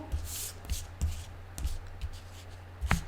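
Soft rustling and sliding of cards in hands, several brushing strokes at an uneven pace, close and fairly quiet.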